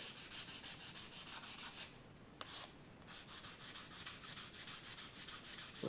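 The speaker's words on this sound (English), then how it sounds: "Let's sand it down." Sandpaper rubs back and forth along the leading edge of a small catapult glider's wing in quick, even strokes. The sound is faint and close, with a short pause partway through and no voices.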